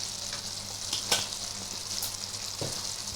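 Bengali fish curry with green peas sizzling in a pan as raw mustard oil is stirred in, a steady moderate frying hiss with a couple of soft stirring clicks.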